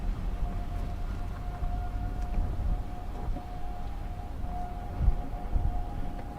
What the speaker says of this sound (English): It's been a while since I've heard tornado sirens.